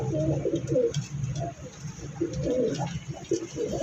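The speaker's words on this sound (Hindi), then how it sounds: "ये सारे कबूतर हैं।" Pigeons coo at a pigeon market in Shahdara, soft repeated throaty calls close by with short pauses between them.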